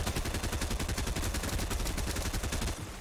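Rapid automatic gunfire in Fortnite during a competitive tournament match, with loud sustained bursts of fast repeating shots that fill most of the moment and then taper off.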